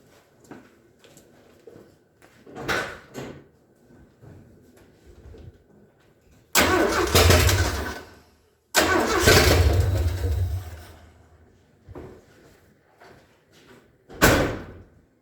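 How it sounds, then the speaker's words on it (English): A 1978 Ford F150 engine cranked with the key from outside the cab, with short starter bursts followed by two long loud cranking runs, one catching briefly, and a final sharp burst, no talking. "Seeing as how I have no throttle control from in there, I'll just leave the key on and crank it from out here."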